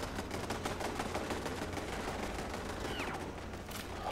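Automated turrets fire in Fallout 76, a rapid, continuous volley of gunfire crackling throughout at moderate distance, with no voices over it.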